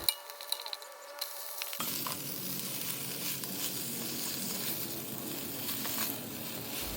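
Fried rice sizzles in a nonstick wok, a bright, steady crackling hiss that bursts on suddenly after a couple of quiet seconds of light clinks, then continues close and even.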